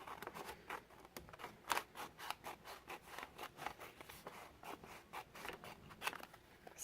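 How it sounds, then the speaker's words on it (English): Scissors snipping through paper in a classroom-style craft demonstration, a close run of quiet, rhythmic crisp cuts and rustles with no talk. "do you see how I'm turning my wrist to make the scissors move?"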